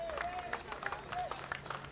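An audience claps for players at a sports prize ceremony, scattered and fairly light, mixed with a voice speaking over a crowd murmur.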